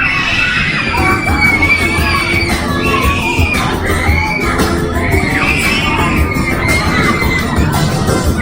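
Riders on a Dobsons Maxwell Waltzer fairground ride scream and shout together, a loud continuous crowd of high wavering cries over ride noise and fairground music.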